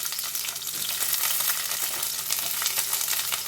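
Chopped onions sizzle in hot oil for a soya chunk curry, a dense, even crackle that carries on steadily with no talk.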